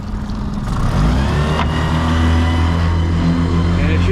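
A Suzuki kicker outboard motor on a 2021 Fishrite F90 fishing boat revs up toward top speed, a loud steady engine drone rising slightly in pitch and holding strong throughout.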